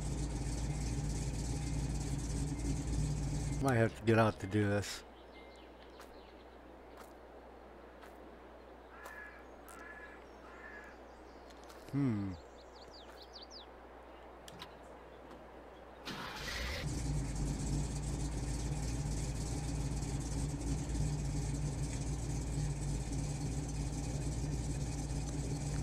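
A Ram 3500 pickup's engine idles in Farming Simulator 22 with a loud, steady drone that cuts out through a quieter middle stretch and then returns; someone speaks briefly.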